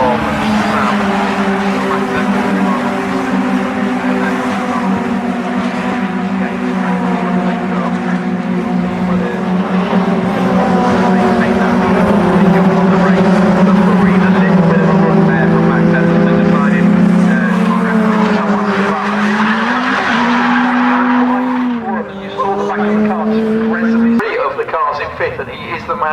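TCR touring cars racing around Snetterton circuit at a BRSCC race meeting, engines droning loudly and continuously with shifting pitch as cars pass, under steady commentary talk.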